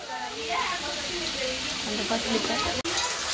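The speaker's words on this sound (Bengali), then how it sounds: "আর এদিকে আমি একটু তেল দিয়ে ভালো মতো করে নাড়াচাড়া করে নিয়েছি" Spices and ground nut paste fry in hot oil while being stirred, a steady close sizzle with soft scraping, briefly cut off near the end and resuming.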